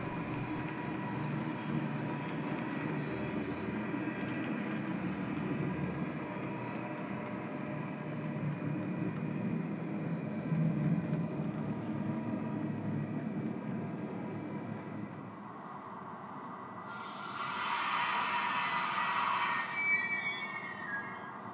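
An H0-scale model train with onboard sound rumbles steadily along the track, leaving a station, with a brighter hiss and squeal rising near the end; no voices.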